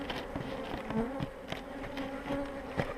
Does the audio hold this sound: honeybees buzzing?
yes